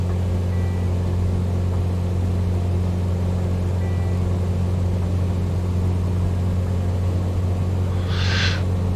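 Aircraft engine thrust builds during takeoff in a flight simulator video game, a steady loud droning hum with a constant low tone, plus a brief faint higher burst near the end.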